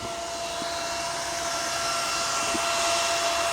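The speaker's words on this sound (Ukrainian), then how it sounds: "Вентилятор. Кажуть, що це від порше машини на охолодження акумуляторів." A Porsche battery-cooling fan, repurposed to blow air into a smoker and running on 24 volts, gives off a steady, even whoosh with a faint tonal whine riding over it. It stays constant and close throughout, with no one speaking.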